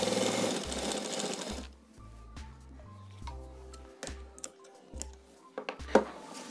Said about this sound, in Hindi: और फिर सीधी सिलाई कर लेंगे।